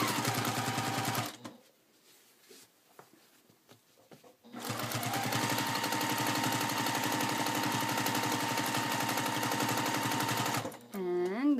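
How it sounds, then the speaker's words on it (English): A sewing machine hums loudly and steadily while travel stitching free-motion over earlier stitches on a quilt, stops for about three seconds, then resumes at full speed before a brief voice at the end. "I'm going to have to do a little travel stitching, kind of going over the stitches that I already had"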